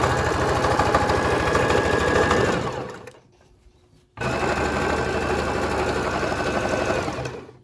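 A sewing machine overcasts the fraying raw edges of tweed skirt fabric in a loud, steady, rapid close-up whir that stops for about a second before running on evenly again.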